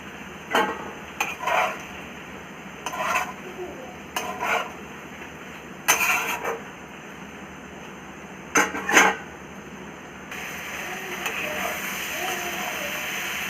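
Okra curry gets stirred in a metal pan, several separate bursts of spoon scraping and clinking against the pan, then the lid goes on and a softer steady simmering hiss continues.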